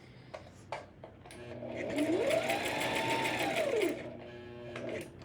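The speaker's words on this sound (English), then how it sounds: "we're just going to do a straight stitch all the way across" Sewing machine running a straight stitch across a knotted fabric headband, a steady close mechanical whir lasting a few seconds after some light handling clicks, with no talking.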